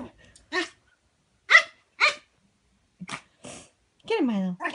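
A dog barks at its own reflection in a mirror, giving sharp, close barks in uneven bursts with quiet gaps, ending in a longer growling yelp.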